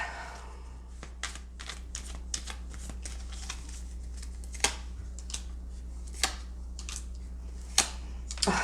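Tarot cards are shuffled and drawn close up in a quiet room, making soft riffling flutters and crisp snaps. Sharper flicks stand out at irregular intervals, and a low steady hum runs underneath.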